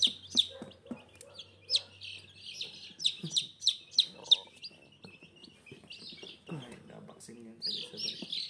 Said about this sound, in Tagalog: Inilipat ko rin yung mga sisiw ng SPR dahil nanunuka.